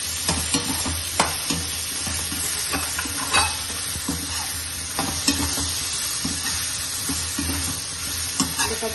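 Cut brinjal pieces sauté with onion and tomato in a pan for curry, a steady close sizzle punctuated by regular spatula scrapes and knocks against the pan, no talking.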